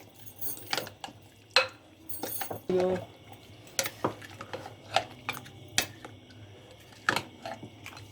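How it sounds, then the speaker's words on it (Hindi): A spoon clinks and scrapes against a bowl in irregular taps while a thick yogurt marinade for chicken tikka karahi is stirred, close and fairly quiet. "अब आप इसको किसी स्पून की हेल्प से इसको मिक्स कर दें।"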